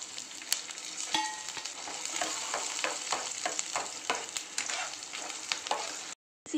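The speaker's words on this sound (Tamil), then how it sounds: "எடுத்து வச்சுருக்கிற மசாலாலாம் வதக்கிக்கலாம்." Masala of onion, tomato and curry leaves sizzles and fries in oil in a pan, steady crackle broken by stirring scrapes, close up, ending in a short gap.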